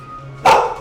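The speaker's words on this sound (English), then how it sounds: "Dogs are barking. Dogs are pissed at the robot dog." A single loud, close dog bark rings out over a steady low hum, part of several dogs barking at a robot dog.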